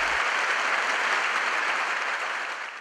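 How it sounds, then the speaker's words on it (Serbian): An audience gives performers a long, thunderous ovation after a show in Serbia, a dense, steady wash of clapping from many hands that carries on throughout, easing slightly toward the end. "publika je gromoglasnim višeminutnim aplauzom pozdravila umetnike"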